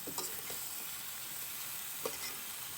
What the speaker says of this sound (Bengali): লাউ দিয়ে মশলাটাকে ভালো করে মাখিয়ে আমি লাউটাকে কষিয়ে দিব মশলার মধ্যে।